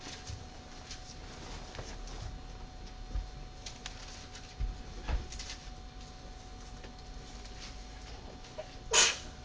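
A single sneeze bursts out near the end of a quiet classroom lecture, short and fairly loud above steady low room noise, after several seconds of faint background shuffling.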